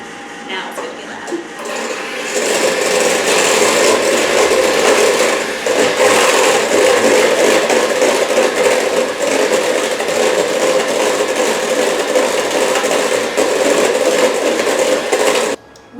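Electric mixer whipping heavy cream and sugar: a steady, loud motor whir that starts after a brief quiet lead-in, holds for about thirteen seconds, then cuts off abruptly.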